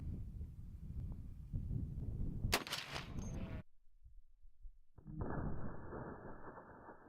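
A shotgun fired at a refrigerator outdoors: a sharp broadband blast partway through, followed by a brief lull and then a lingering rumbling tail, heard close and fairly loud.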